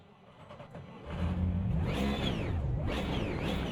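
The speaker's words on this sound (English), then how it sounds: "Let's listen to the Bentley" A Bentley race car engine in Automobilista 2 revs and accelerates, loud and close, its pitch climbing and sweeping through gear changes with no talk over it.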